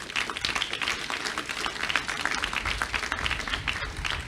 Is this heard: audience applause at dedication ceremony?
yes